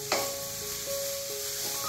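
Curry leaves drop into a hot pan with a sharp initial crackle, then settle into a steady sizzle and frying hiss with a few soft stirring scrapes.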